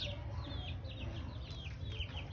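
Pet chickens cluck and chirp softly in a quick, irregular series of short calls, faint and distant over a steady low background rumble.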